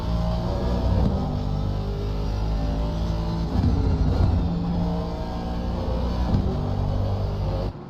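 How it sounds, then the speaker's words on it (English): An Aston Martin race car engine in a racing game at the Kyalami circuit rumbles and revs continuously, a loud, dense engine note with gear changes, heard alone for several seconds. "Gorgeous engine sound though."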